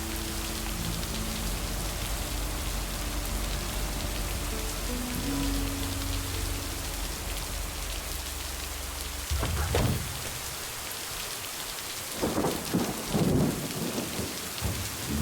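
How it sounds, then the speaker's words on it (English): A thunderstorm with heavy rain in the video game Lake: steady loud rain with a long rolling rumble, then sharp thunder cracks near the end. "Big old storm."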